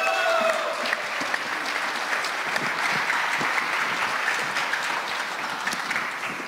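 Audience applause at a Connecticut Republican gubernatorial debate, a sustained dense wash of clapping from a large crowd that fills the whole stretch and tapers slightly at the end.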